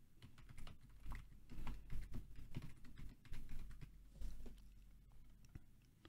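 Computer keyboard keys pressed while entering a username and password, quiet quick irregular clicking bursts close by with no voices.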